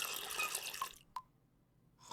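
Water pouring into a cup in the video game Samorost, a steady bright splashing stream that stops abruptly, followed by a couple of single drips and faint trickling.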